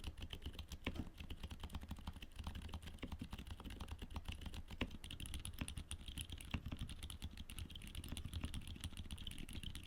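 Steady, fast typing on a keyboard with silent tactile switches, soft, muted keystrokes, a quiet continuous patter of dampened clicks without talk.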